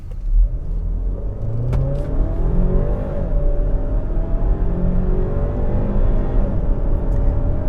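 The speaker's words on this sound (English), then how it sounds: "So I just put it in sport mode, and with this 2-liter turbo," A 2018 Kia Sportage with a 2-liter turbo engine accelerating hard in sport mode, heard from inside the cabin: a steady, loud engine drone rising in pitch through the gears, with a brief shift dip, continuing without talk.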